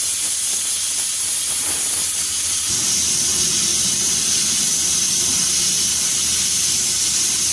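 A pressure cooker on a mud stove vents a loud, continuous hiss of steam, steady from start to finish, with a lower rushing tone joining partway through.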